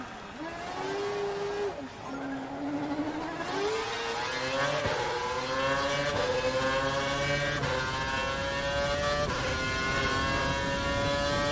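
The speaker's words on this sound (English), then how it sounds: "It'll be against the clock this time, so we've turned the engine up to normal." A Formula 1 race car in the F1 2012 video game revs and accelerates, its engine note rising and staying loud and steady near the listener throughout.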